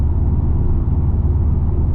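Subaru Forester STI SG9 engine driving under light positive boost, a steady loud low rumble from inside the car with no pauses, heard alone.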